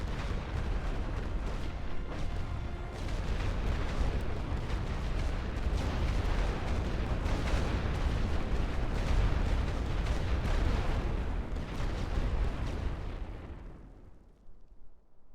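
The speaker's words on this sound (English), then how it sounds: "Check coordinates for barrage. Fire all guns." An artillery barrage in The Great War: Western Front game, a dense continuous roar of overlapping booms and blasts, loud and sustained, then fading out at the end.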